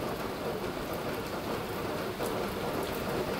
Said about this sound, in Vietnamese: Đã mưa hết biết mưa luôn, mấy cái mưa ngập luôn rồi kìa, ngập bờ luôn